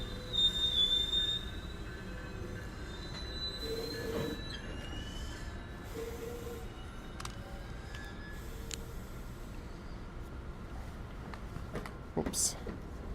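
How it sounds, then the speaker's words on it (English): UP Express train arriving at a Toronto station platform, with a steady rumble, squealing wheels and clanks, moderately close and continuous, while people talk nearby. "Oh, there's an Up Express train arriving."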